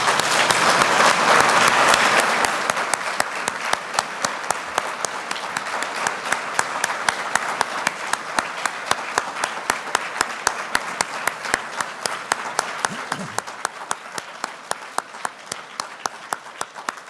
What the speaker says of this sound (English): So I would like us to offer to Ellen, who's watching, a round of applause, and thank you, Ellen Hannock.